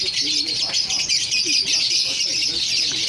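Lovebirds in breeding boxes with chicks and eggs chatter in a dense, continuous high chirping, close and fairly loud, with a few lower calls mixed in.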